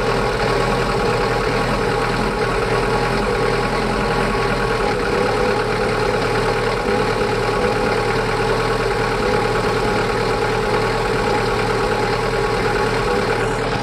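A camper van engine idles while warming up, a steady, loud mechanical drone that holds unchanged throughout with no voices.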